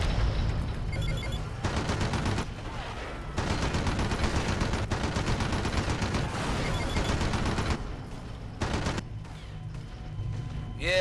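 Rapid bursts of gunfire in the shooter game Red Faction 2, loud and dense fusillades broken by short pauses, with near shots cracking sharply over a rumbling mix.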